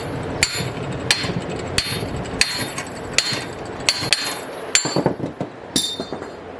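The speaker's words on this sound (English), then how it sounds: "put a socket in here, and you just hammer the hub out" Steady hammer blows drive a wheel hub out through a socket during parts work on a turbo K-series EK car, about nine sharp metallic strikes at a regular pace, close and loud, with no talking.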